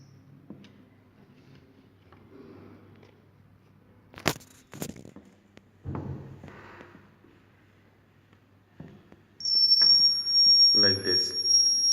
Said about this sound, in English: this is a piezoelectric buzzer which will generate some sound when some water is detected here.